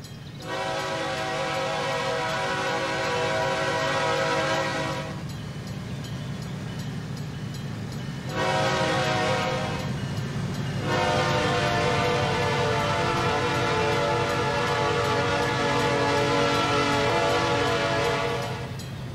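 A GE locomotive in Trainz 2019 sounds a long, loud multi-chime horn in two blasts separated by a short gap, over the steady rumble of three GE units rolling through a valley at about 55 mph.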